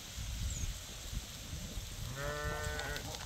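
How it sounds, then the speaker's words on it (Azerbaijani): A large flock of several hundred young pregnant sheep and rams bleats in overlapping calls over a steady outdoor murmur, with one clear, close bleat toward the end. "Bunlar hamısı qoyundur, bu yekələr."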